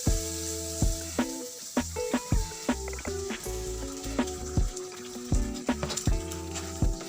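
Sausage and eggs frying in a pan, a steady sizzle with repeated scraping stirs and clinks from the utensil at irregular intervals, close and moderately quiet.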